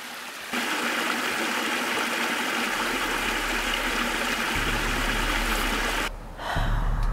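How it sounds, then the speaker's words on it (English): Water flows steadily near an icy stream, a continuous broadband rush and trickle that holds loud and close for several seconds before briefly dipping, with no speech. "The sound of the water, the chill of the ice."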